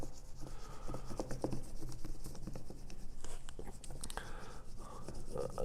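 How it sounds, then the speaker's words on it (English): Close, soft rubbing and scratching as block print paper is burnished onto inked linoleum, a steady irregular friction pattern at low level with no talk. "I lightly just kind of press it onto itself before I start burnishing"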